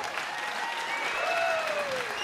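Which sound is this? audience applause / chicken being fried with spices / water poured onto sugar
audience applause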